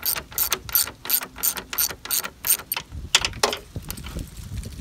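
A hand ratchet backing out 10 mm bolts from the grille of a Ram truck, clicking in quick regular strokes close by before slowing to a few scattered clicks and clinks.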